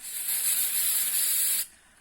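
A steady, close aerosol spray hisses for over a second and a half, then cuts off sharply, leaving faint room noise.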